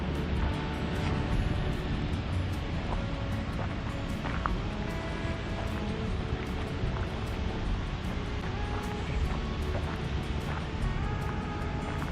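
A continuous, loud rushing roar of water spilling over the old 1700s stone mill dam at a historic site, steady and broadband, heard close with no break and faint background noise.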